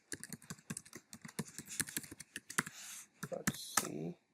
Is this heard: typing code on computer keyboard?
yes